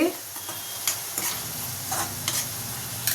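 Ridge gourd curry being stirred in a pan, with soft scraping strokes every half second or so over a steady low sizzle, close and moderately loud, no voices.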